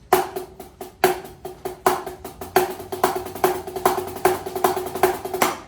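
A snare-like drum plays rapid paradiddle sticking patterns, each four-stroke group opening with a loud accented hit followed by softer strokes, steady rhythm, close and alone.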